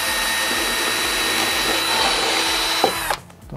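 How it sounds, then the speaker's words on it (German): Loud whining power drill boring steadily into a wall for about three seconds, marking anchor positions for a scrap-wood insect screen door, then cutting off abruptly, leaving a quieter room. "bohren wir jetzt einfach mal da rein,"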